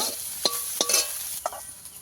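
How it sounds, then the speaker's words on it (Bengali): Soybean chunks fry in hot oil in a pan, with a soft sizzle under a few sharp scrapes of a spatula stirring them, close by and without speech. "ভেজে নেব সোয়াবিন আমি এইভাবে ভেজে নিয়েছি"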